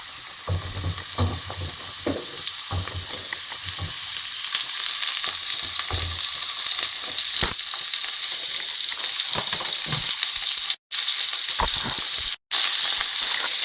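Onions and capsicums fry in a pan for chilli paneer, giving a steady, close sizzle with occasional clinks and stirring scrapes throughout.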